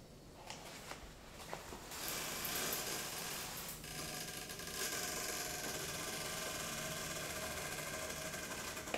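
A concrete acid stain sprayer being tested: a steady mechanical hiss and whir starts after a couple of faint clicks, then holds as a continuous hissing drone with a motor hum beneath.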